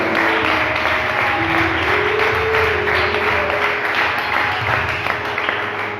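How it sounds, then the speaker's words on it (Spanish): A church audience gives loud applause after a Spanish-language sermon on Romans, a thick, continuous wall of clapping that stays strong throughout. "Vamos a dar un fuerte aplauso a su palabra."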